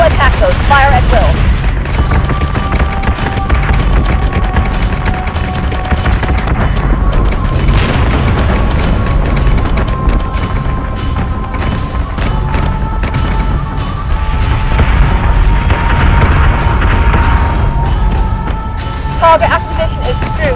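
Starship cannons firing in a Battlestar Galactica Deadlock space battle, a loud, continuous barrage of booming shots over a rumbling low drone, with a commanding voice heard in places.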